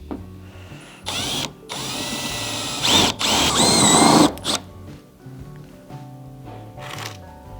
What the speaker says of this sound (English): I'm gonna make the hole bigger with this universal bit until it fits.